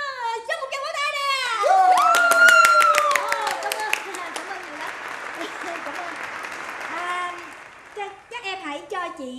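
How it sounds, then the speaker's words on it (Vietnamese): Audience applause for a 14-year-old girl on a comedy show stage, clapping swelling under a bright voice and musical tones, with talk over it before fading. "Cho một tràng pháo tay nè."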